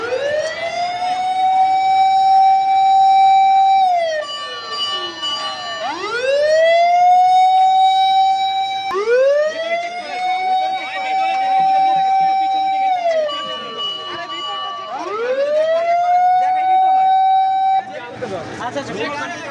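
An ambulance siren wails loud and close, rising and falling in long repeated sweeps, with a harsher burst of noise near the end.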